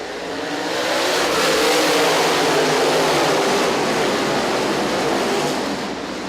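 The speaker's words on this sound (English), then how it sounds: "5 cars passed there on that restart on the high side." A pack of race cars roars past on a racetrack after a restart, a loud, sustained engine drone swelling and fading slightly as they go by, with no voices.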